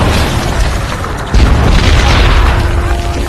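Vietnam War artillery fire supporting Australian troops against Viet Cong guerrillas booms heavily, with a sharp blast partway through that sets off sustained rumbling explosions, loud and close.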